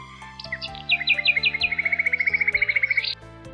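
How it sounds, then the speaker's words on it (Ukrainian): A bird sings nearby, a rapid series of high chirps that settles into a fast even trill, with faint music underneath. "спів пташок"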